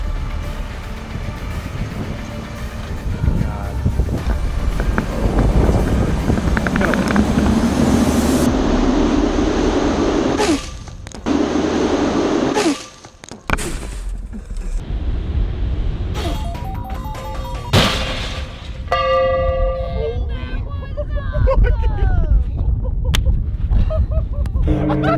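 Life-size Sonic machine with spinning blades winding up: a loud, sustained roaring whir that keeps rising, with sharp clanks and a rattling, harmonic whine toward the end.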